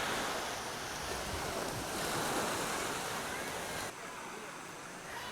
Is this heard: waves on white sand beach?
yes